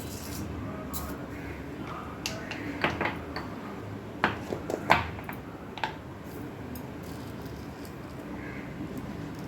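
Scattered sharp pops and crackles of mustard seeds spattering in hot sesame oil over a low, steady frying hiss, close by and fairly quiet.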